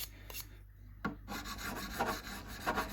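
A 400 grit leveling beam rubs and rasps along the frets of a jazz hollow body guitar in short, quiet strokes, close and faint with no talking.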